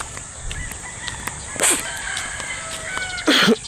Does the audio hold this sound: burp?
no